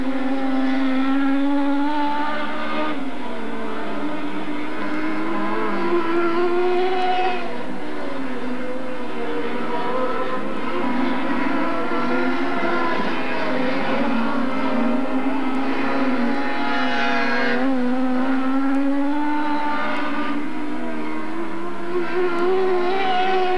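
Dirt track race cars lapping a speedway, a continuous loud engine roar with rising and falling pitch as the cars pass, carrying on without a break and with no voices over it.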